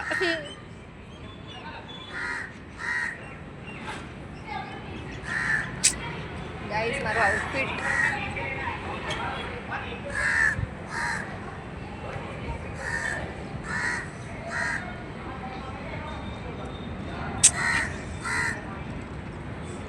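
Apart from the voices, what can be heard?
crows cawing by riverfront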